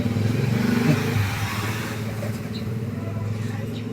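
A Bajaj CT 125 motorcycle used for hire idles steadily at close range, a low, even engine rumble with a rapid pulsing beat and light mechanical clatter throughout.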